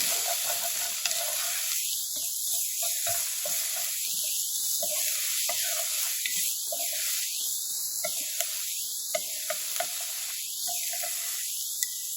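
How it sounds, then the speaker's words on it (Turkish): Dry onions sizzling and frying in a pan, with repeated scraping stir strokes at a steady rhythm over the continuous crackle, close and clear. "Şimdi kuru soğanlarımızı ilave ediyoruz. birlikte kavuracağız."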